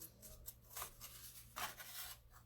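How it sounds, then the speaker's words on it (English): Scissors snip through material for rustic Valentine wall decor, a few quiet, brief close-up cuts with soft rubbing between them, with no talking. "Cut that out of the way."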